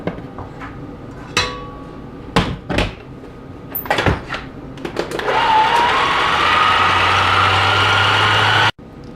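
Chocolate chip cookie dough takes in flour mix a little at a time. First come several sharp knocks and clatters, then an electric mixer starts and whirs steadily and loudly before cutting off abruptly.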